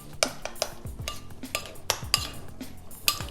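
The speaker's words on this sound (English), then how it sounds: "Just give it a good stir." A spoon scrapes and clinks against a pot while lamb rogan josh curry is stirred. The metallic knocks and scrapes come close up in an irregular rhythm, with no talking.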